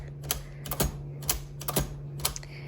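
Keystrokes from a 1929 Remington Portable No. 3 typewriter, a handful of sharp mechanical clacks in irregular rhythm, close and moderately loud over a steady low hum, with no talking.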